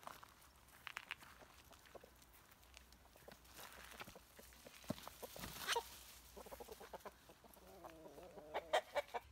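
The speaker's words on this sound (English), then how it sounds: "At the chava, we also have chickens, tarnigolot." Chickens on a farm clucking and squawking close by, a busy scatter of short calls rising into louder bursts near the end, with light footsteps among them and no talk.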